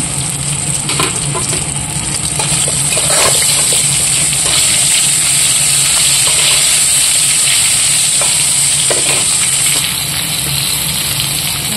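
Mustard seeds tempering in hot oil with turmeric and salt for a hilsa fish sour curry, a steady loud sizzle and crackle running throughout with faint stirring clinks.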